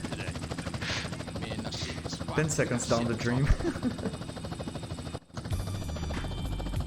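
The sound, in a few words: helicopter in video game Grand Theft Auto: San Andreas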